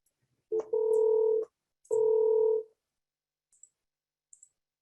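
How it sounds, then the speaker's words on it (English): A desk phone on a contact-centre system dials 3001, heard as two clean, sustained keypad tones with a short gap between them, followed by faint soft clicks in otherwise quiet surroundings. "And I'll say dial 3001 to begin with."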